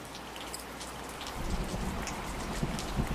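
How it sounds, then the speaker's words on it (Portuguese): Steady rain patters down onto a surface, a dense hiss of drops that grows a little heavier and closer partway through, with no voices. "Você acertou se você respondeu que esse é o som da chuva"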